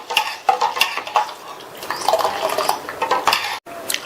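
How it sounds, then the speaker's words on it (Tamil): A utensil stirs spiced buttermilk (neer mor) in a vessel to mix in the ingredients. Repeated clinks and scrapes against the container come in an uneven rhythm, close up, with no talking. "எல்லாம் நல்லா ஒன்னா மிக்ஸ் ஆகிற மாதிரி கலந்து விட்டலாம்."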